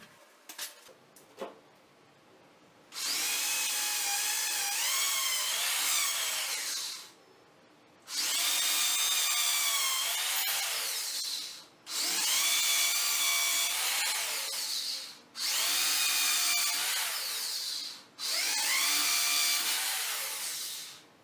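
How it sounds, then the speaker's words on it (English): A power drill whines in four long bursts separated by short pauses, each grinding steadily as it bores holes into a hard wall for a cooker hood installation, close and loud. "drill the holes with the help of drill machine"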